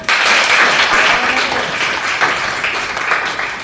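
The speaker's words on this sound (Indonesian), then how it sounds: "Luar biasa, tepuk tangan." A crowd claps and applauds together for a few seconds, dense and fairly loud, fading slightly toward the end.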